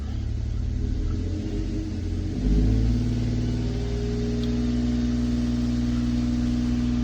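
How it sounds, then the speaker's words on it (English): A car engine with misfiring cylinders and a clogged catalytic converter idles roughly, then revs up to a steady higher drone with an uneven, lumpy rumble, close to the microphone. "I'm gonna rev it up."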